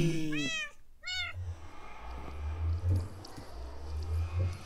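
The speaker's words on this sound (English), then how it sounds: "Don't screw around with my cats," Two high meows from cats in the video game Minecraft come in quick succession at the start, followed by low rumbling game background sounds and soft thuds.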